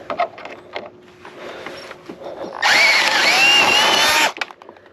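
A power drill whirs loudly and steadily for about two seconds while removing rivets from the front bumper of a Dodge Challenger widebody, preceded by quieter handling clicks and taps.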